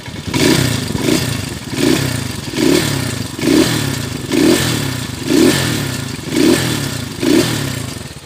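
A Honda TMX 125 Kaliskis motorcycle engine converted to 200cc runs loud and close, its rough mechanical clatter swelling in a steady rhythm of repeated revs, about one every second.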